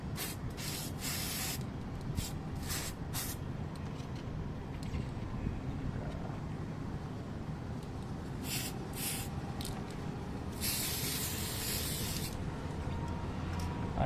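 Short bursts of aerosol spray hissing close by while painting a Tamiya Mini 4WD Toyota TS050 model car body, separated by gaps, then a longer sustained spray toward the end.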